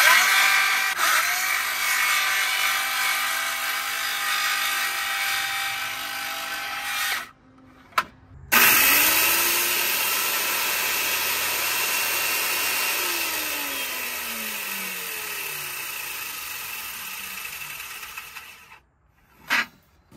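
A power saw cuts a pocket into a wooden newel post for a staircase connection, loud steady whining runs broken by a short pause and a sharp knock, then a final burst before it spins down.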